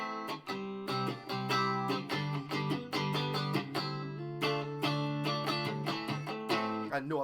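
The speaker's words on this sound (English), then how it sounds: "I'll put some reverb on" An electric guitar played through a 30-watt amp with a reverb pedal and loop pedal plays a clean melodic line with plucked notes ringing out and a lingering reverb tail, close up and moderately loud.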